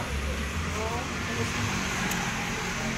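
A car is driven in to be parked out of the heat, giving a steady low engine rumble and hum that runs throughout at moderate level.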